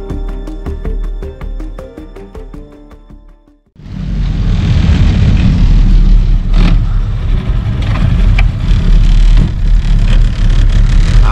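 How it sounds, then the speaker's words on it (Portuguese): A boat motor runs on a flooded river in Rio Grande do Sul. A loud, rough engine drone revs up abruptly after a brief softer stretch with clanking and hum, then roars steadily close by. "Levanta o motor pra não pegar nos galhos, né?"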